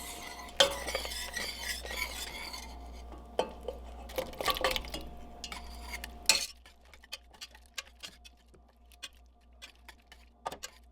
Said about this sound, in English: I'm going to add a tablespoon of butter and a quarter teaspoon of salt. And then I'm going to add my beets.